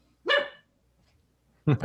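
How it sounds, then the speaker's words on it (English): A dog named Charlie gives two short, fairly loud barks, one near the start and another at the end, with a quiet pause between them. "Charlie's barking, but too lazy to actually move his head."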